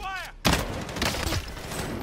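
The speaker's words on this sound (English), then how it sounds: "I shot him 3 times." Video game gunshots break out as a sudden loud burst after a brief quiet tone, then keep going as rapid, overlapping fire with a voice speaking faintly underneath.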